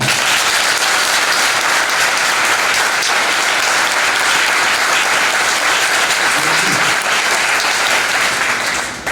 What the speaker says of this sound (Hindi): एक बार हमारे सभी देश के स्वतंत्रता सेनानियों के लिए जोरदार ताली